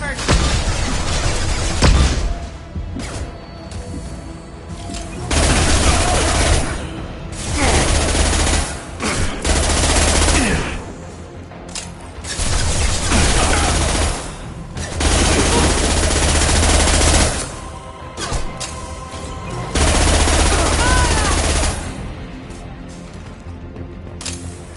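Sustained automatic gunfire in Mass Effect 2, loud dense volleys that swell and ease in repeating waves over a steady low rumble, with occasional booms.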